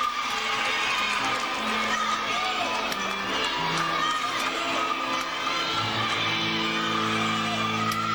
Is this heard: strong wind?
no